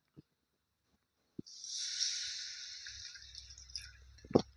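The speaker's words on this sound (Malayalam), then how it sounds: "ആ കടായിലേക്ക് ഒരു ഗ്ലാസ് വെള്ളം ചേർക്കുന്നുണ്ട്" A glass of water poured into a kadai while cooking upma makes a close, steady splashing hiss that lasts about three seconds, followed by a sharp metallic knock in a quiet kitchen.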